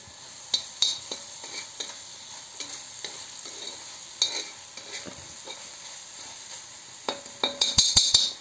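Fresh coriander frying in hot oil for an aloo bhindi sabzi, a steady soft sizzle with scattered crackles and stirring scrapes, building to a louder burst of pops near the end.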